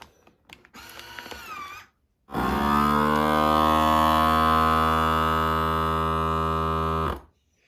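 A heat sealer closes a Mylar food storage bag with a loud, steady electric buzz lasting about five seconds, after a short stretch of handling clatter and rustling.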